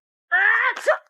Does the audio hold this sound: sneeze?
yes